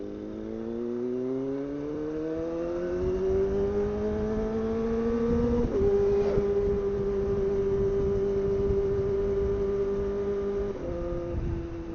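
A Kawasaki ZX25R motorcycle on a test ride pulls hard on an open road, its high-pitched engine climbing steadily in revs, pausing briefly for a gear change, then holding a loud, sustained wail before the next shift.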